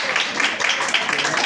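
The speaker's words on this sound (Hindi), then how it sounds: "जोरदार तालियां हो जाए प्लीज।" Brief, dense applause from an audience at an Urdu jalsa and mushaira gathering, a steady wash of clapping lasting little more than a second.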